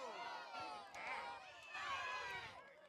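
A crowd at a state high school soccer match between Lander Valley and Worland, with Worland supporters shouting for a foul: many overlapping voices calling out in rising and falling waves, moderately distant, mixed with general spectator noise.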